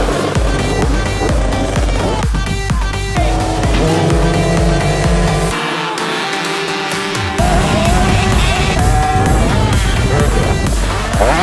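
Dirt bikes race together in a kids' motocross event, engines buzzing loudly and continuously with shifting pitch as the pack passes close by, no talking over it.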